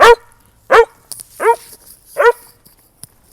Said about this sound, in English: so you hear her barking.